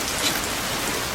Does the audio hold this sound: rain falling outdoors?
yes